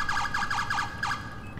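A wailing electronic NYPD police siren in a video game cycles rapidly up and down several times, loud and steady, with synthetic clarity and no voices.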